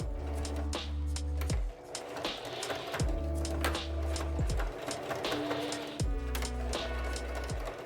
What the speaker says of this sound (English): we're going to seal it in place with, I would say, 4 to 5 stitches back and forth